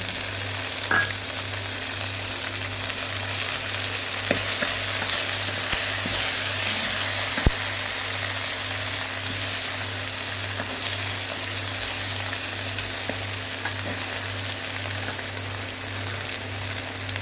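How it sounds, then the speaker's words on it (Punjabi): Steady sizzling of red tomatoes frying with browned onions in a pan for sarson da saag, with occasional sharp clicks and scrapes of stirring; constant and close, no talking. "ਪਿਆਜ਼ ਆਪਣਾ ਭੁੱਜ ਚੁੱਕਾ ਵਾ ਹੁਣ ਇਹਦੇ ਵਿੱਚ ਲਾਲ ਟਮਾਟਰ ਪਾ ਦਾਂਗੇ"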